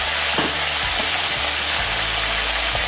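Washed yardlong beans hit hot oil with tempering spices and green chilies, giving a loud, dense, continuous sizzle with faint stirring knocks underneath.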